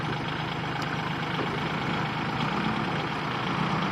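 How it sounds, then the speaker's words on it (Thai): A Kubota farm tractor idles steadily during a field recovery of a stuck Kubota L5018. The low, even engine rumble is moderately quiet and unbroken, with no talking. "ตอนนี้ได้เอารถไถ LC7 ของพ่อมาช่วยดึงอีกนะครับ"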